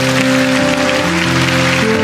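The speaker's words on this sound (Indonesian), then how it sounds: "Yang percaya kasih tepuk tangan untuk Tuhan sekali lagi" A church congregation claps together in a dense, continuous wash of applause that holds at full strength over sustained musical tones throughout.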